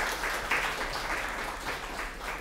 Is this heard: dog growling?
no